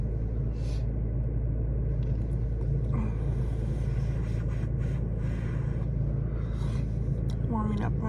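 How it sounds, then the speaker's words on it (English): A truck engine idles on a cold day while warming up, a steady low rumble that runs unbroken through the whole clip, with faint voices and small noises over it. "Warming up my truck."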